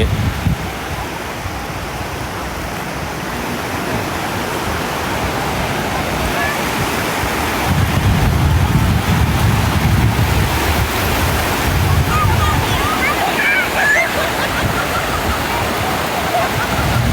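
Sea waves wash onto the beach at Chao Lao, Thailand, a continuous roaring surge that swells louder midway, mixed with wind buffeting the microphone and voices faintly underneath.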